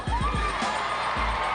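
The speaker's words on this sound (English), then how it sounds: "This crowd goes crazy in Stegman when the Gym Dogs hit the floor" Home crowd at a Georgia Gym Dogs gymnastics meet in Stegeman roars with sustained cheering and whoops, a few low thumps early on, loud and continuous throughout.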